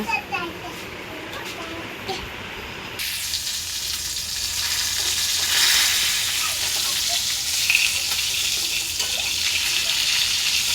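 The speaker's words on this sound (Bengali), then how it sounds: "এই মাছগুলো ভাজিটা হয়েছে" Fish sizzle as they fry in hot oil, a steady bright hiss that swells after a short quieter start and runs throughout, with voices chatting and children's sounds in the background.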